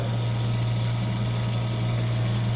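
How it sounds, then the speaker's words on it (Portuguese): A small homemade electric motor runs with a steady, even low hum and a fine buzzing whir, close and unchanging, with no voices over it. "Tá aí funcionando o nosso motor elétrico."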